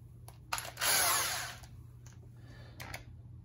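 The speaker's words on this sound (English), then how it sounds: "this is a really bad drill" A rough, worn electric drill whirs in a short loud burst while lapping engine cylinder head valves, then drops to a quieter buzzing with brief ticks around it, close by.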